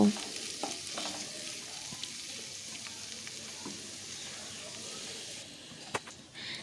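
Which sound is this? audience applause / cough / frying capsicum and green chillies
frying capsicum and green chillies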